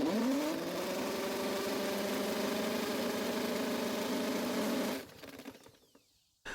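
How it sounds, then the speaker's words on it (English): A Toro walk-behind mower engine being cranked hard during a compression test, a fast steady mechanical chugging that runs loud and even for about five seconds, then cuts off and winds down into near silence. "we're able to spin the engine fast enough to override the compression release"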